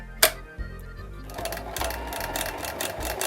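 A sewing machine stitches the end of a buttonhole on clothing, starting with a sharp click, then running in a steady rapid mechanical chatter that stays close and fairly loud through the rest of the clip.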